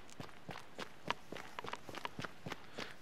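Light, quick footsteps in Hyperdimension Neptunia, a steady run of soft taps that are faint and fairly close, with no one speaking.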